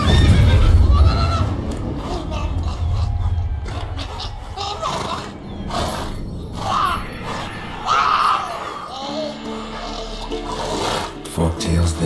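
Roach the horse in The Witcher 3 whinnies loudly at the start, followed by softer horse snorts and in-game ambient sounds, with occasional voices through the rest.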